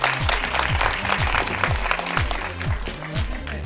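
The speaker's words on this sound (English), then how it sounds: "So a big round of applause for Vidya ji." Audience applause for actress Vidya Balan at an IMC Ladies interaction event: steady, dense clapping across the whole stretch, close and fairly loud, with a low tonal sound running underneath.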